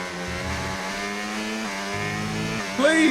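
A damaged F1 car gearbox in the F1 25 racing game grinds as the engine drones with a steady harmonic whine, ending in a sharper squealing burst.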